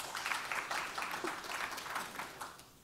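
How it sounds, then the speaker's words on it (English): Quiet, fairly distant clapping from a tech conference audience thanking a panel, a dense patter of hands holding steady for a few seconds without voices over it. "Let's give them another round of applause,"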